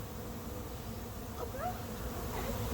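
A honeybee swarm moving toward a hive gives a faint, continuous buzzing hum outdoors, with a few louder individual bees passing nearby.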